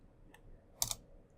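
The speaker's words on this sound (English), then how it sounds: "So here I'm going to type" A few quiet keystrokes on a computer keyboard land in a short burst: one light tap, then a quick double click, with near silence around them.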